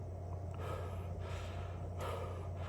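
Breath blown hard into a blue 3-ply face mask gives soft, close, breathy gusts, two or three rushes of air over a low steady hum, with no talk.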